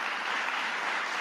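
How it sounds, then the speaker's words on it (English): Steady applause from an audience fills the whole short stretch, an even wash of clapping at moderate level with no voices over it. "Yes, clap for that."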